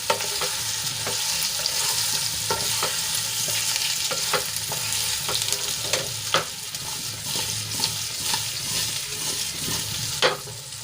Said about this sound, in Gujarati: સરસ રીતે આપણે વઘારમાં મિક્સ કરી લઈશું